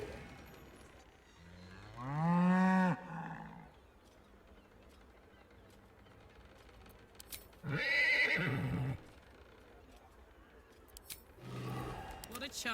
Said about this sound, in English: It appears to be an ordinary sheep.